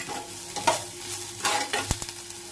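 Finely chopped onion for a suji kachori filling is stirred in a pan of hot oil, giving soft scraping strokes over a light sizzle and one sharp knock.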